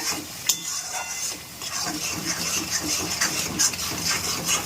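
Chicken pieces with cumin powder being stirred and sautéed in a pan, a continuous close sizzle with scraping strokes and a few soft knocks.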